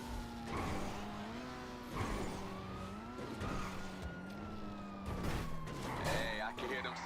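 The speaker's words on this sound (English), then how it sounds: "I can hear them sirens from here" Police sirens wail in GTA Online, a rising and falling electronic tone repeating over several seconds alongside game effects and skidding, with voices speaking over it.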